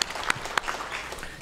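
Church congregation clapping in praise after a prayer during a Korean worship service, a short burst of scattered applause with a few sharper individual claps standing out, moderately quiet and brief.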